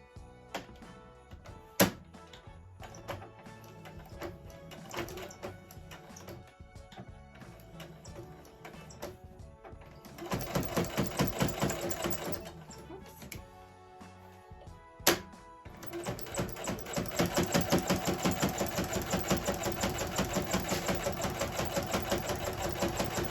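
A Brother PE800 embroidery machine stitches a custom Christmas stocking, its rapid mechanical chatter running nearby in steady bursts that pause and restart, growing louder and denser toward the end.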